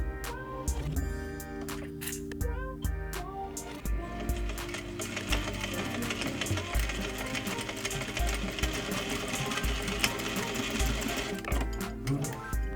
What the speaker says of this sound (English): we are going to sew along the base of the triangle, basically exactly over where your previous stitch line was